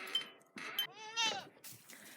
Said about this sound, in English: There's the goaty goats. Hey goaty goats!